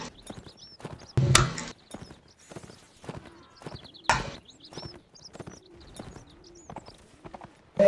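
A horse's hooves clop in irregular bursts in the Mount & Blade Warband video game, mixed with cooing birdlike calls and a couple of loud thumping hits, with no talking.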